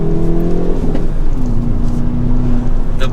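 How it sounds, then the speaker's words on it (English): Hyundai Veloster N hot hatch with a 2-liter turbo engine and six-speed manual on a mountain road, heard from inside as a loud, close engine note rising and then settling into a steady drone. "The pops in this exhaust already give it such a cool fun factor for this hot hatch."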